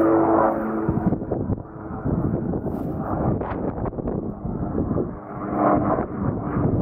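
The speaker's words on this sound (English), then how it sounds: "Oh, the helicopter." A low rumbling helicopter drone with wind noise across the microphone, steady and moderately loud, passing nearby on a snowy day.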